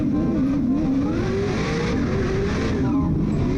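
A drift car's engine revs hard on a practice run, a loud, sustained roar rising and falling in pitch with a hint of tire noise, with no voices over it.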